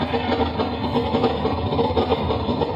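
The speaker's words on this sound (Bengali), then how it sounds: "ট্রেন যাচ্ছে" A continuous rumbling train passes close by, a dense steady roar with a faint rhythmic clatter underneath.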